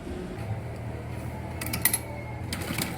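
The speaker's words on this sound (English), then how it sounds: "I'm going back to the sewing machine to top stitch on the lining" A sewing machine top stitching a lining onto fabric around a slit neckline, a faint steady mechanical whir with a low rhythmic hum and a few light clicks near the end, no talking.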